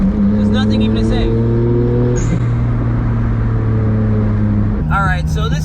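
Engine drone of a 1991 Suzuki Cappuccino kei car cruising at 80 to 90 km/h around 4,000 rpm, a loud steady hum inside the cabin with a brief shift in pitch partway.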